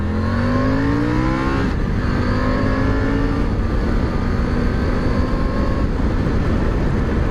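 A Triumph Tiger 900 GT Pro motorcycle pulls away with a loud, rising engine note that climbs through several gear changes. The revs drop briefly at each shift before building again, with no voices.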